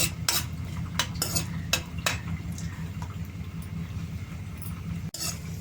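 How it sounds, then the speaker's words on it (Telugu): Cashew nuts fry in a pan while a metal spoon stirs and scrapes, with sharp clinks and taps over a steady low sizzle and hum. "జీడిపప్పు వేగిపోయిందండి, తీసేద్దాం గిన్నెలోకి."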